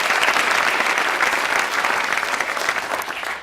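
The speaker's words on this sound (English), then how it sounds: "Round of applause again for all of our participants." An audience at a technology conference closing ceremony gives a round of applause for participants, dense sustained clapping at a loud, even level throughout.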